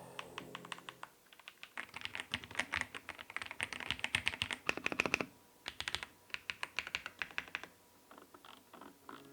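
Fast typing on a gasket-mount mechanical gaming keyboard with thin PBT keycaps, crisp clattering keystrokes in rapid bursts separated by brief pauses, close and clear with no voices.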